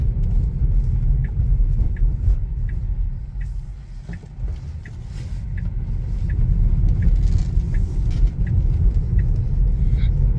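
Steady low rumble of road noise inside the closed cabin of a Tesla Model 3 electric car with windows shut, with faint periodic ticks and no talking.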